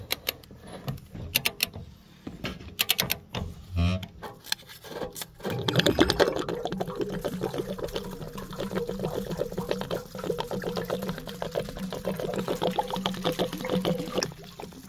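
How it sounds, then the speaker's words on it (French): Water heater of an RV being drained of its 20 litres while winterizing the camper: clattering handling noises at first, then a steady rushing, gurgling flow of water that continues to the end, with no voices. "Et ensuite on va vidanger tous les 20 litres d'eau qui se trouvent là-dedans."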